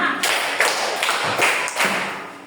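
Students in a classroom clap hands in unison, about five sharp group claps in a steady rhythm, loud and near, with room echo between them.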